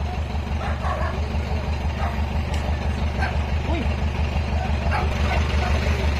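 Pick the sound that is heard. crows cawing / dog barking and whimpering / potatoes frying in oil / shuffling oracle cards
dog barking and whimpering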